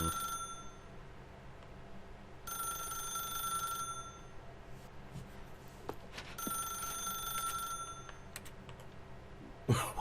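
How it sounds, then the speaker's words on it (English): A telephone rings in The Stanley Parable video game, two bursts of trilling electronic ringing a few seconds apart over a steady faint room hiss, with small clicks in between. "Now pick up the phone."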